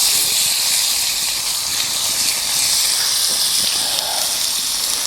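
Ostrich steaks searing in a very hot pan at a bushcraft camp, a loud continuous sizzling hiss running steadily throughout with no talk.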